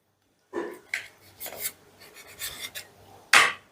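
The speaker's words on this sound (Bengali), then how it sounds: "আর এইভাবে আমি সমস্ত চিকেনটাকে কেটে নেব" A knife slices thin strips of chicken breast for a fried chicken dish, giving a series of short, close rasping and scraping strokes against a board, with a sharper louder scrape near the end.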